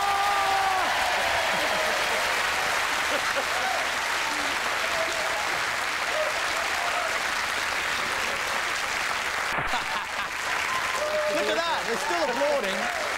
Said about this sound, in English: They're still applauding.